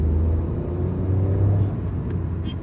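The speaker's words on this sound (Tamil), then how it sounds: "பட் அதுக்கப்புறம் வண்டி வந்து அப்படியே பயங்கரமாக சீர ஆரம்பிச்சிடுது" A Hyundai i20 N Line with a manual gearbox pulls away, its engine note a steady low droning hum that builds slightly in pitch through the revs, heard close and continuous with road rumble and no voices.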